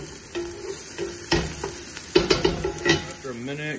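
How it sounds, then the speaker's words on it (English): A spoon stirs a flounder chowder mixture in a pot on the stove. Close scraping and clinking strokes sound over a low simmering sizzle, and a brief voice comes in near the end. "And you're gonna stir that all together."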